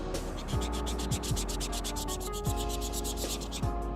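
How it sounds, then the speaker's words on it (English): Close-up sanding of paint off a sneaker midsole: quick, rhythmic rubbing strokes scrape steadily across the surface, continuous and fairly even for the whole stretch. "I'm gonna go ahead and sand at this midsole"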